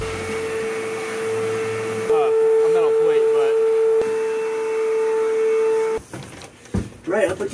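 A T7 floor scrubber cleaning a gymnasium's wooden floor, with a loud steady whine and motor hum under a voice speaking over it, then the tone cuts off near the end.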